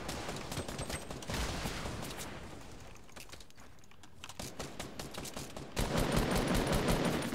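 Rapid gunfire in a Fortnite match rattles in dense, continuous bursts, loud and close, easing briefly in the middle before a heavier volley returns at the end.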